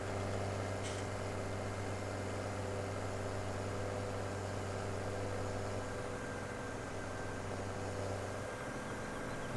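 A tractor engine drones steadily while driving in the game Farming Simulator 17, a constant low mechanical hum with tonal whine, fairly loud and unbroken, with a brief high tick near the start.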